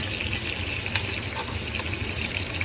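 Steaks fry in a pan with a steady, dense sizzle throughout, broken by a sharp clack as they are stirred and flipped, with no voices present.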